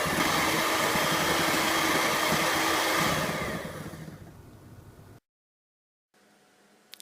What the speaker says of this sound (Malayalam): ഇനി നമുക്കിതിനെ നന്നായി ബീറ്റ് ചെയ്തെടുക്കണം ഇത് ഫ്ലഫി ആയി വരുന്നത് വരെ നമുക്ക് ബീറ്റ് ചെയ്യാം